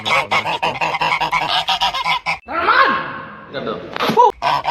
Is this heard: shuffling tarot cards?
no